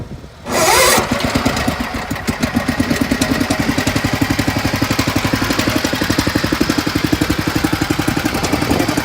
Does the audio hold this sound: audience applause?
no